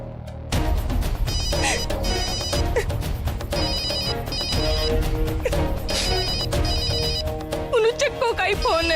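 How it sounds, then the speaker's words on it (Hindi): A telephone rings repeatedly in a Hindi TV serial scene, its bell-like tones recurring through the clip over music and speech. "चक्को का ही फोन है।"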